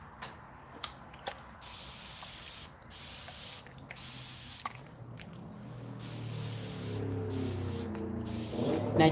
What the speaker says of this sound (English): you see how I'm spraying her hair?